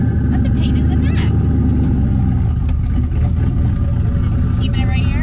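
A turbocharged LSX-swapped Mazda RX-7 with a Powerglide transmission rolls in first gear, its engine making a loud, steady low rumble that fills the recording, with faint voices under it.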